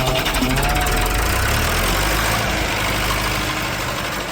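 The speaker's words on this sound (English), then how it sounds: "That was a Fordson tractor." A 1916 Fordson tractor engine runs steadily, giving a continuous low, rough mechanical rumble with knocking texture, close and fairly loud with no talking.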